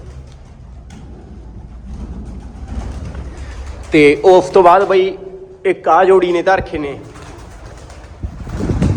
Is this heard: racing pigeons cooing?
yes